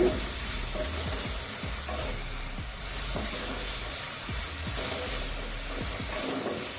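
Masala for tinda curry frying in oil in a pan: a steady, close sizzle with rhythmic scraping strokes of a spatula stirring, repeated roughly every half second without pause.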